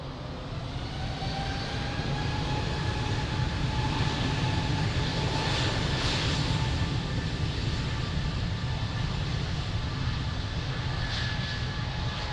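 An aircraft takes off from runway 02 at Lisbon Airport, its engines roaring as a broad, steady, distant rumble that builds slightly and holds, with a faint whine over it.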